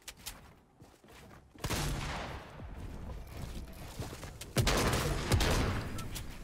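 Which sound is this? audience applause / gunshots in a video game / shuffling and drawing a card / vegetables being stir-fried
gunshots in a video game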